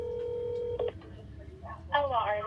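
Telephone keypad tones beep as a phone number is dialed, a long steady tone followed by short presses, then a voice speaks faintly afterward.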